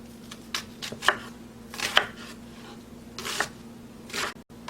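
A knife cuts button mushrooms on a cutting board, giving a handful of soft, irregular thuds and scrapes close by over a quiet kitchen hum, with no talking.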